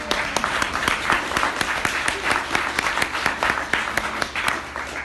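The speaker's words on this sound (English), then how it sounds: "can we just give a round of applause to the committee and the cuisine queens?" An audience at a speaker meeting applauds, with many hands clapping in a busy mix and a few sharp, louder claps standing out near the front.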